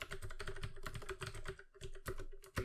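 Rapid, close typing of code on a computer keyboard, a dense run of crisp key clicks with brief pauses and a louder final keystroke.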